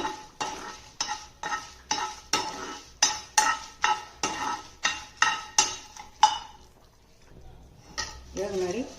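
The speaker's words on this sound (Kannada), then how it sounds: "ಮೆಣಸಿನ್ಕಾಯಿನ ಚೆನ್ನಾಗಿ ಕೆಂಪಾಗೋಗಿ ಹುರಿಬೇಕು" Red chillies are dry-roasted in a pan and stirred with a spoon, giving a steady run of close, rhythmic scraping strokes with a soft dry sizzle. The strokes stop, and then a voice is heard briefly.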